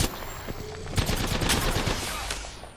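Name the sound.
gunfire in video game Apex Legends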